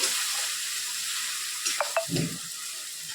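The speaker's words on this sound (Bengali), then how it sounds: "এটা ভালো করে একটুখানি সরষেটা নাড়াচাড়া করে একটু ভাজা ভাজা হয়ে গেলে" Mustard paste and eggplant stir-fry in a pan with a soft, steady sizzle, broken by a couple of brief clinks and a light scrape of the stirring spoon.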